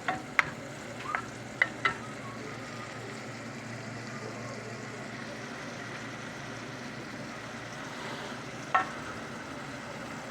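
Onions frying in a pan for gallo pinto rice, stirred with a spoon: a steady, soft sizzle runs throughout, broken by a few sharp clicks and scrapes of the spoon against the pan.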